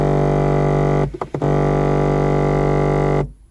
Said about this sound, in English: That noise is a motor that runs the little deflector here